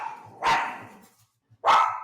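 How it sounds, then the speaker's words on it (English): Two loud, close dog barks ring out about a second apart, each sharp and alone with quiet between them. "I can't trust my dogs around people."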